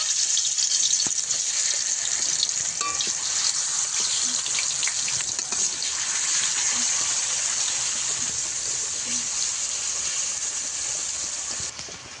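Surpai fish fry in hot oil in a pan with a loud, constant, hissing sizzle that holds steady for the whole stretch, close up and without talk.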